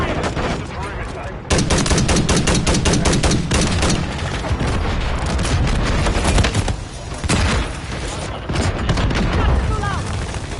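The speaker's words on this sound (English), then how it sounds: "Taking fire." Dense gunfire from the Call of Duty Modern Warfare 3 video game, with rapid automatic bursts and repeated shots running loud and continuous throughout, under brief radio-style game voice callouts.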